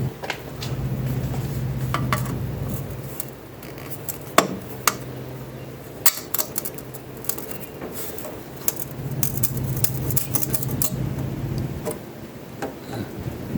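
Pliers pull glazing points from an old barn window sash, producing sharp metallic ticks and small clicks against glass and wood, scattered and close, over a low background hum.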